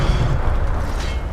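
Incendio fire spell cast in the Hogwarts Legacy video game, heard as a sustained, dense low rumbling burst that stays loud and steady throughout.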